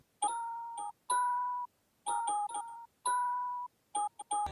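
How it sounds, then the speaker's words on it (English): A bright bell tone plays a short melody of separate notes in spaced phrases, clear and close, ending with a few quicker hits. "one of my one-shot kit sound, which is a bell here, and these are the notes that I played"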